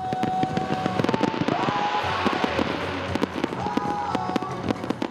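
Fireworks from a competition at GlobalFest in Calgary crackle and pop in rapid, dense bursts, with sharp bangs scattered throughout and a steady roar of crowd or ambient noise beneath.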